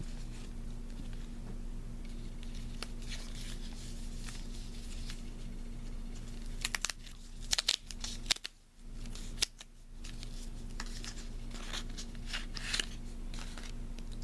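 Crinkly plastic foil wrappers of Magic the Gathering Modern Masters 2015 booster packs being handled and torn open, a steady rustle with sharper crackling bursts in the middle, close up, with a constant low hum underneath and no talking.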